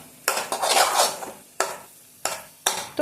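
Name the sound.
stirring egg rice ingredients in a pan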